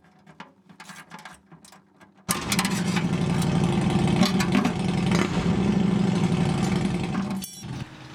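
After a few faint clicks, a power ratchet whirs continuously for about five seconds, close and loud, as it backs out the last oil pan bolt on a C3 Corvette, then cuts off.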